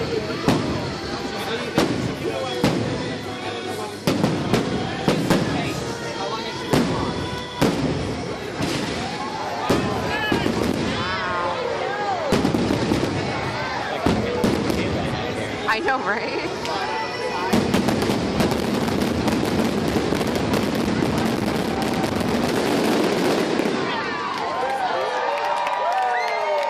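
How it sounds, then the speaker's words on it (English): Fireworks display at Mickey's Not So Scary Halloween Party, with launches bursting close overhead: a long run of loud booms and crackles building into a dense finale, with crowd noise and a brief spoken remark. "we saw the fireworks display too"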